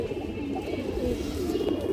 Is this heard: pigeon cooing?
yes